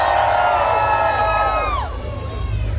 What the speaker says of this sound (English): Yell out as loud as you can.